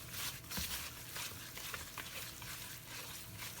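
Brownie batter whisked by hand in a bowl, a steady continuous scraping and swishing with soft rhythmic strokes, close and moderately loud, with no voices.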